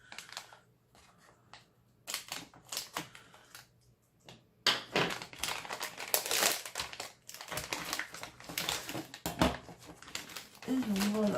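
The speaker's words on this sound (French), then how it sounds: "ça va être l'occasion d'utiliser les ciseaux" Crinkling and crunching of plastic packaging with sharp snipping scissor cuts while unboxing a cross-stitch kit, close up, in irregular bursts with brief pauses.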